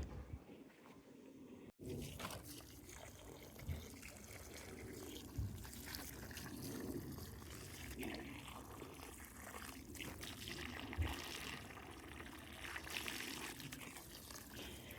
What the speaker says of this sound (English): So I've watered in the pot really well.